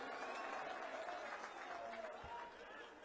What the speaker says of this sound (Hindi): जोर से ताली बजाओ तिलक राम जी के लिए।